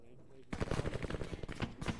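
Rapid machine-gun fire in the military shooter game Arma 3, a dense burst of quick repeated shots that starts abruptly and rattles on loudly to the end, with a voice talking underneath.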